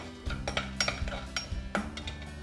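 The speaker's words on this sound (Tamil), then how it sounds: "இப்போ கடுகு பொரிய ஆரம்பிச்சிருச்சு" Mustard seeds spluttering in hot oil as an Indian semolina upma is tempered, giving a scatter of sharp, irregular pops and crackles close by, with no voices.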